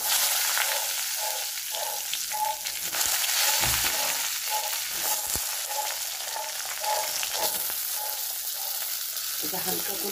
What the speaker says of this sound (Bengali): এবার এই বেগুনগুলো হালকা করে ভেজে নেব